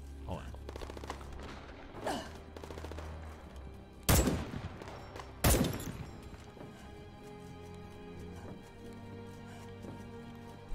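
Gunfire in the video game Starship Troopers Extermination: bursts of weapon fire with two sharp, loud blasts standing out among quieter shots, over a steady in-game background hum.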